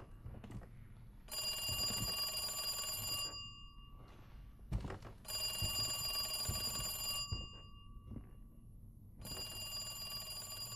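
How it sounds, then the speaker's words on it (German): A telephone in the video game Resident Evil 2 rings in three long electronic bursts separated by short gaps, with faint thuds and footsteps in between. "Wieso steht dein Telefon hinter einer Tür versperrt?"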